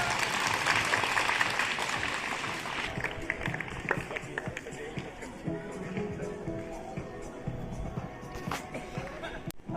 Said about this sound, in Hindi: चाहेंगे आप लोग जोरदार तालियों से स्वागत करें सर का।